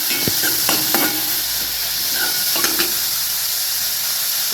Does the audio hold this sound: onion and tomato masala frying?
yes